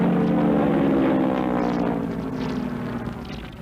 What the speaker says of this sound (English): That's the sound they make, these pea shooters of the Air Force, as they whip by overhead.